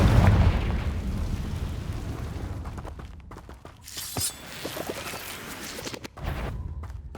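A Confringo fire spell in Hogwarts Legacy bursts with a sharp crack and short blasting booms, followed by several scattered smaller impacts, loud and close over a fading rumble.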